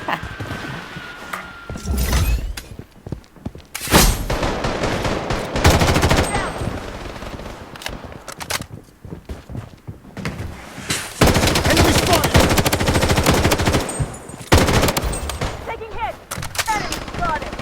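M4 assault rifle firing in the shooter game Blood Strike, with long loud automatic bursts separated by short pauses and a voice talking over parts of it.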